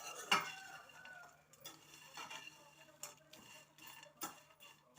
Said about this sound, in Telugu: కొంచెం కారం, కొంచెం గరం మసాలా, ధనియాల పొడి, గరం మసాలా ఏదైనా పర్లేదు వేసుకొని మొత్తం ఇలా కలిపేసుకోవాలి